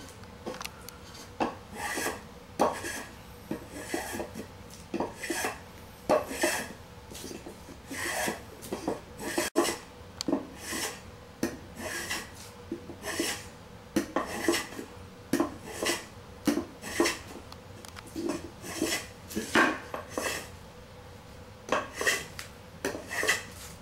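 Repeated rasping strokes of a blade shaving the top of a wooden dummy arm to smooth it, steady rhythmic scrapes close by with clattery accents, no talking.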